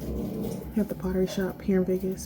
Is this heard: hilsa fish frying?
no